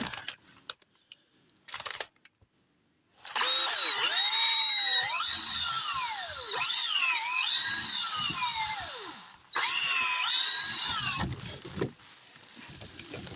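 A power drill bores two holes in turn, each a loud whining burst with rising and falling pitch, separated by a short pause, after a few quiet clicks.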